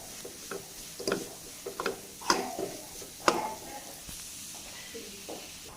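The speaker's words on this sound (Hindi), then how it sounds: "अभी हम 2 मिनट तक और भूनेंगे इसे।" Food roasts in a pan while being stirred, sending out a series of scraping strokes with soft hiss and sizzle between them. The strokes are close and fairly faint, with several distinct ones in a loose rhythm.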